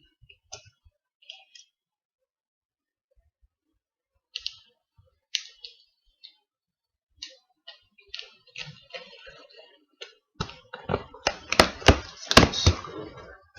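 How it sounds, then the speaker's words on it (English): A well-packed cardboard box nested inside a mystery box is opened: sparse soft clicks and taps give way to a rapid run of louder crackling tears and snaps of tape and packing near the end, close and otherwise quiet. "I think I'm just going to open this box first"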